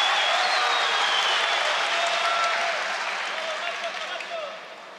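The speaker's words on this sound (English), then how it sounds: "Biggest round of applause for the referee I've heard all day." A judo arena crowd at a Grand Prix event in Tbilisi applauds the referee in a loud, sustained burst of clapping that fills the hall and gradually fades, with commentators talking over it.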